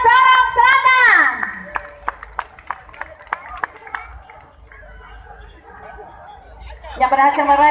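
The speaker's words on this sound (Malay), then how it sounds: "mari kita berikan tepuk tangan kepada Sorong Selatan" Audience applause for the Sorong Selatan team at the Piala Raja 2017 football award ceremony, a short burst of scattered clapping after an announcer's amplified voice, fading into crowd murmur before the announcer resumes.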